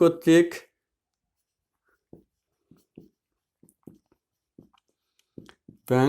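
A pen writing on paper in short, faint scratchy strokes, spaced unevenly during a Bengali accounting lesson on bank reconciliation, with brief talk at the start and end.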